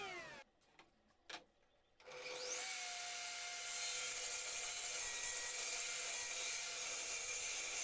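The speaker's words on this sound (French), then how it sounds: "j'attends l'arrêt complet de la machine avant de relever la scie" A power saw whines steadily through wood, a loud continuous cutting roar after a couple of brief knocks and a short quiet moment.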